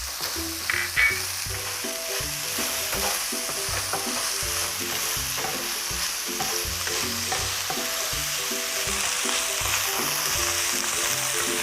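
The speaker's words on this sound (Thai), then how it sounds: "หลังจากนั้นนะคะเราก็จะตามด้วยใน 2 ตัวพริกแห้งค่ะ ลงไปผัดเลยค่ะ" Dried chillies are stir-fried in a pan for a Thai-style pasta, giving a continuous loud sizzle broken by repeated rhythmic spatula scrapes and clinks.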